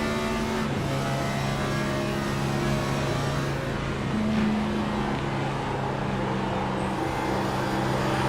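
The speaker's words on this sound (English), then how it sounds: "Hear them tires squealing." Stock-car racers circle Pocono Raceway in a Next Gen series race, engines droning in a steady loud roar with shifting pitch as cars sling through a turn, a continuous wash of track noise with no clear tire squeal standing out.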